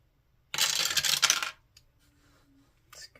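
Dice are rolled, making one bright clattering rattle of about a second, close and loud, followed by near silence and a faint tick.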